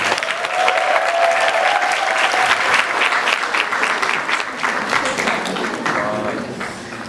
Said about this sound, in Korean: 큰 박수로 한번 하겠습니다